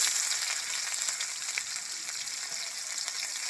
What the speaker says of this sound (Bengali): তেলের মধ্যে একটু গোটা জিরে ফোড়ন দিয়ে দিলাম